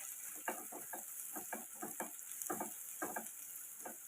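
Ivy gourd pieces frying in a pan, rapid ticking spatula taps and light sizzling in uneven clusters over a constant high hiss, fairly quiet and close.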